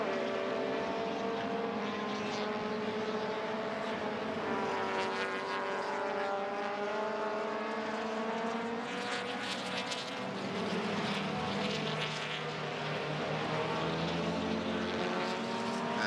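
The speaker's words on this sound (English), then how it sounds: "that looks like Fadzil Alang, the red and white FR racing car" Racing cars lapping a circuit during round 2 of the 2017 Malaysia Championship Series, including a red and white FR race car, give a loud, continuous, droning engine roar that rises and falls in pitch as they run past.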